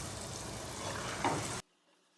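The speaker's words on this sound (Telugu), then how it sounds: "ఇప్పుడు ఇందులో చికెన్ వేసేసుకోవాలి" Chicken dropped into a pan of hot spiced oil for gongura chicken curry fries with a dense, steady sizzle, a brief louder burst near the end before it cuts off abruptly to near silence.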